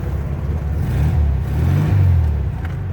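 A 1974 VW Super Beetle engine running after being started with the key, a steady, close, low throaty rumble that swells slightly in the middle and holds without pause.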